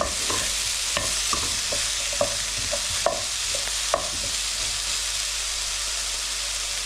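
Garlic and ginger sizzle steadily in a pan for a lamb tagine, with a constant hiss and repeated clinks and scrapes as a utensil stirs and taps the side of the pan.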